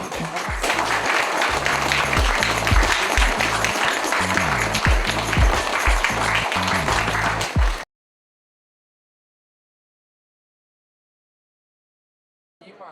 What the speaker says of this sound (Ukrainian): Так що оплески, будь ласка, вам.